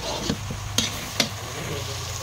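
Vegetables frying in a pan as they are stirred and dried out, a steady low sizzle broken by a few short scraping knocks from the stirring, close up, with no one talking.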